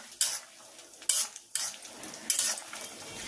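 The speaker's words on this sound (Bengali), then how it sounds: "কাজু কিশমিশটা হালকা ভেজে নিলাম।" Cashews and raisins lightly frying in a pan, with a soft sizzle broken by four or five sharp bursts of stirring and utensil scrapes against the metal.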